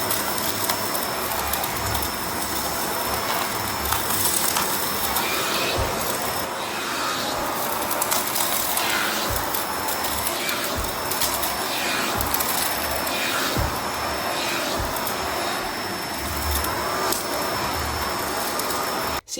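A Bissell Pet Eraser Turbo vacuum cleaner runs steadily throughout, a loud continuous motor whine with rubbing, scraping sounds as the hard-to-push turbo tool is worked back and forth.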